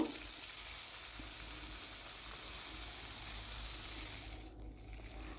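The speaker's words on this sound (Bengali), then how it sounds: "এবার আমি কিন্তু সর্ষে তেল দিয়ে দেবো মাছগুলো ভাজার জন্য এক এক করে আমি মাছ দিয়ে দেবো" Small Japanese puti fish fry in mustard oil in a pan, a faint, even sizzle and hiss running continuously and dipping briefly near the end.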